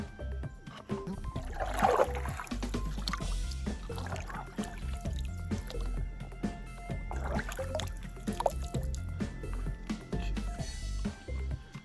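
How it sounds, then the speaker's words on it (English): Water is gathered from a stream into a container, with soft trickling, small splashes and handling knocks close by, fairly quiet and with no talk. "I'm going to gather water in on this side."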